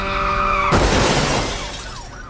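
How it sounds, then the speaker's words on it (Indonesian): A city bus making a U-turn is struck by a truck: after a steady engine hum, a sudden loud crash bursts out, followed by scraping, rattling debris and a fading skid, all without speech. "Bus yang dibawa Pak Sentot tertabrak truk ketika mau putar balik"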